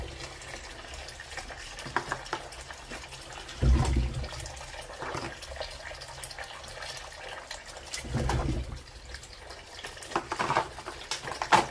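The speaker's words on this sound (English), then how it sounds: "Let's get them over to the sink and start washing them." Potatoes being washed under running water at a kitchen sink: a soft, steady trickle with splashes and rubbing noises rising at times, fairly faint and close.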